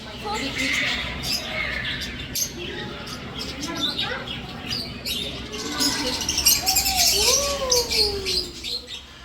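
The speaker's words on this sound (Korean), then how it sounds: "특히 앵무새가 모여있는 새장이 신기하고 재밌더군요." Parrots gathered in an aviary cage at a small zoo chirp, squawk and whistle in overlapping calls, with rising and falling whistled notes toward the end and some background voices.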